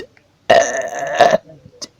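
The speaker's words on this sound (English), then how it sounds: "could I just please stop burping?" Burtle, a video game character, lets out a loud, drawn-out burp lasting nearly a second, followed by a short second belch and a faint hiccup-like tail, with no talking.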